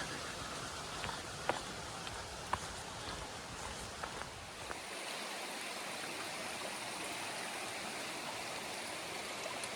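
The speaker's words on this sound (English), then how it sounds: "So this is Brown Mountain Creek" Brown Mountain Creek on the Appalachian Trail flows steadily past, a continuous broadband rush of water with small waterfalls, loud and close, with a few faint knocks early on and no talking.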